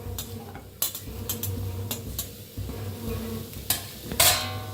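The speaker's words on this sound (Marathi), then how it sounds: "कांदा भाजून घ्यायचा आहे।" Sliced onions frying in a kadai give a soft, constant sizzle, broken by sharp scrapes and clinks of a spatula against the pan, with a louder scrape near the end.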